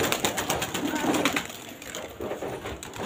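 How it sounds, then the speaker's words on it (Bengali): Domestic pigeons coo close by while some of the flock flies and others settle in trees. Soft, rhythmic coos and light fluttering run over a busy outdoor background. "আমার কিন্তু সব কবুতরই, অনেকে গাছে বসে গেছে আর অনেকে উড়ছে"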